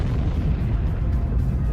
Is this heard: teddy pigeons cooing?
no